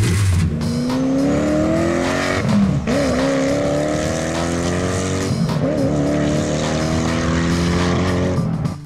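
A 2018-horsepower supercar engine revs hard and loud, its pitch climbing through sustained rising sweeps with brief dips between gears, heard alone without voices.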